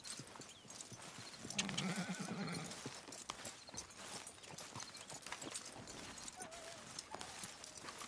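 Red Dead Redemption 2 game audio: steady clip-clop of horse hooves walking at an even pace, with a whinny early on and faint background ambience.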